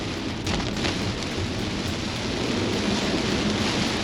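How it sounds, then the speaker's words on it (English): Very heavy rain pounds a Kia EV6 being driven on the wet Genting road, a loud continuous hiss of drops drumming on the car body with occasional sharper spatters. "you hear nothing but the rain"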